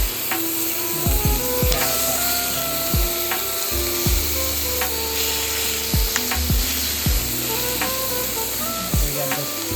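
Steady, dense sizzling of food frying in a hot pan, with occasional scraping and knocking from a utensil against the pan.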